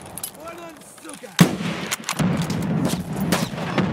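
A grenade blast and gunfire in the shooter game Escape from Tarkov: one sharp loud explosion, a second thud and scattered shots that follow, with a voice talking over the action.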